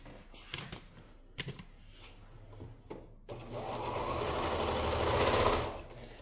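A sewing machine stitching a quilt block, starting after a few scattered handling clicks and then running as a steady, loud mechanical whir that builds for several seconds.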